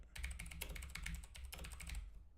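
Close, quiet typing on a computer keyboard makes quick clusters of light clicking keystrokes, broken by a short pause partway through.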